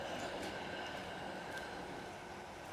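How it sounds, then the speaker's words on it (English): A train rumbles past at a distance beside a canal lock, a steady broadband roar with faint rail clatter, fairly quiet and continuous. "There's a train going past there"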